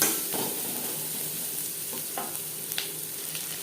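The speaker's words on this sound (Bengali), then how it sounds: "পেঁয়াজ অবশ্যই লালচে করে ভেজে নিতে হবে" Onions with turmeric and salt fry in a pan until reddish for a prawn and ridge gourd dish, giving a constant close sizzle broken by a few sharp spatula scrapes and stirring clicks.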